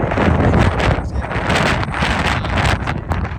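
Strong wind at Seven Magic Mountains buffets the microphone with loud, continuous rumbling gusts and roaring noise, no voices heard.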